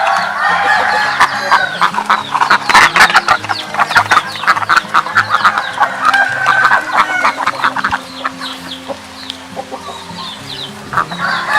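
Farm ducks and chickens kept in a backyard pen call continuously, a dense chorus of clucks, quacks and squawks close by, with a rooster crow mixed in.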